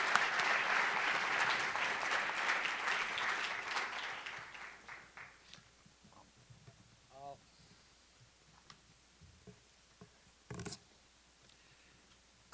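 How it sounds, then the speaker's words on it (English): Audience applause at the AAU James E. Sullivan Award ceremony, a loud dense ovation that fades over several seconds into scattered claps, faint rustling and a few brief voices. "just give them a round of applause."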